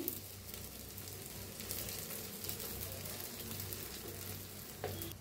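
Soaked sago is stirred and roasted in a pan with green chillies and potato for sabudana khichdi, a faint, continuous frying crackle with soft stirring scrapes and no voices.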